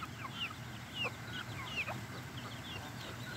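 Chickens cluck and squawk in short, scattered calls over a steady low farmyard rumble; several birds sound at once at moderate distance, with no one speaking.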